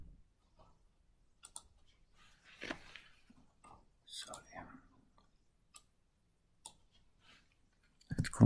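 Computer mouse clicks, a few faint, sparse taps spread across a quiet stretch, with soft speech between them and a louder knock at the end.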